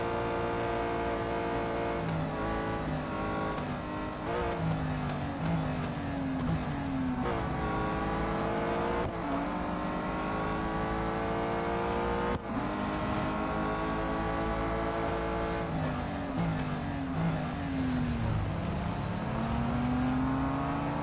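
Race car engines roar continuously in the Real Racing 3 racing game, loud and close, with pitch sweeping up and down through gear changes while overtaking on a track.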